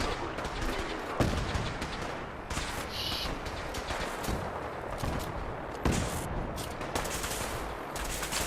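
Gunfire from the video game Fallout 4, with loud repeated shots and bursts cracking out over several seconds amid a busy, noisy battle mix.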